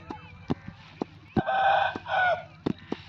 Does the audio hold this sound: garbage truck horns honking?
no